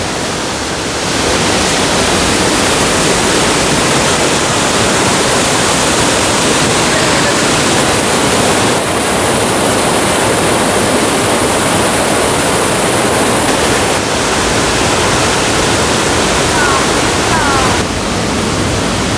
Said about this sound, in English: so you can get a particularly nice view of the waterfall